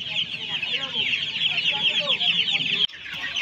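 At a busy poultry market in Uluberia, a crowd of chickens and young Australian-breed chicks clucks and cheeps nonstop in a dense, high chorus, loud and close, before a brief cut.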